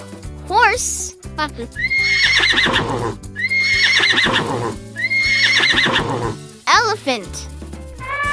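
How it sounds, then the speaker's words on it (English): A horse whinnies loudly several times in a row, each neigh high and wavering, with hoof clip-clop mixed in, set among a children's nursery-rhyme sequence of animal voices. "Horse."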